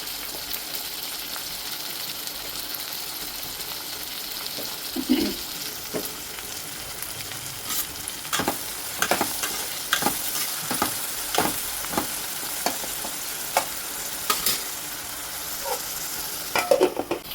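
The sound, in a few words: onions and tomatoes frying in a pan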